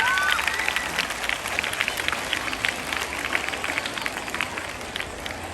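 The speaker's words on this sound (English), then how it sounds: "A big hand clap for the whole group" Sustained applause from an audience for a children's dance group at a Children's Day school celebration, steady clapping with crowd noise running throughout.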